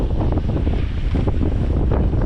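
Strong wind buffets the microphone while sailing at sea under a genoa on a passage to the Azores, a loud, steady roar with waves and hull rush beneath, no voices.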